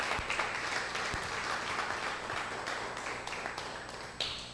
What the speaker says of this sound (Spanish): ¿Cuántos aplauden el nombre del bendito sea?